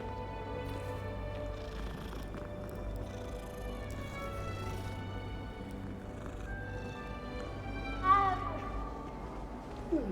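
A cat in Hogwarts Legacy gives a short meow near the end, a brief rising call standing out over steady orchestral game music and ambient castle sound.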